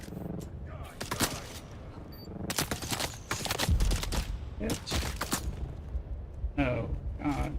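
Gunfire in the video game Dune Awakening comes in sharp repeated bursts and single shots at close range, mixed with game effects, while someone talks over the action.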